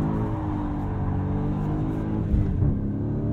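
A 2023 Dodge Challenger Swinger with a manual gearbox pulls away in first gear, its V8 engine giving a loud, steady, close rumble that swells briefly near the end.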